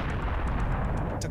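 A cannon firing in the Serious Sam video game, a dense, rumbling low boom filling the whole short moment, loud and close with no voice.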